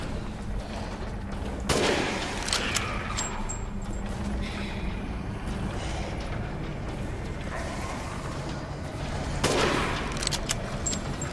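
Gunfire in Resident Evil Village, sharp shots at intervals over a dim, mechanical ambient bed, with brief creaks and clicks between the bursts.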